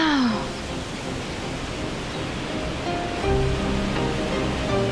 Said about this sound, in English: We heard this waterfall.